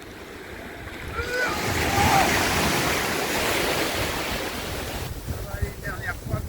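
Waves wash onto a beach with strong wind buffeting the microphone, heard from a sailboat near Camaret and Brest in spring, a broad steady roar with a faint voice briefly talking over it.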